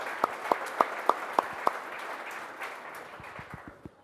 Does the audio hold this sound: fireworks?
no